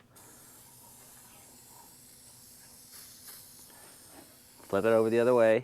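A soft, steady spray hiss wets the greasy parts of an Allis-Chalmers C tractor engine to loosen the grease. It is faint in the background, then someone speaks briefly at the end.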